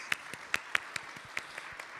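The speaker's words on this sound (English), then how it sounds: "Please send a big applause to recognize the contribution by the speakers." Sparse, quiet applause from a summit audience for the session speakers, with about a dozen separate claps scattered over two seconds and no steady roar.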